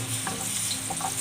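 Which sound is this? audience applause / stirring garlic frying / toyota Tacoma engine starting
stirring garlic frying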